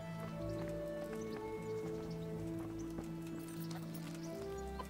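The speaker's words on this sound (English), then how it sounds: "That is a nice looking horse though." Horse hooves clip-clop at a steady walking rhythm in the medieval video game Kingdom Come: Deliverance, faint and somewhat distant over a low continuous background drone.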